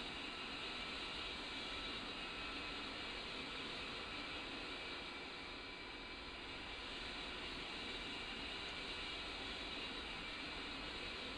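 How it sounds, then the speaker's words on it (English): Twin jet engines of an F/A-18 Hornet in the DCS flight simulator spool up to a steady, loud broadband roar with a high whine that holds evenly throughout, without any speech. "so are both engines spooled up?"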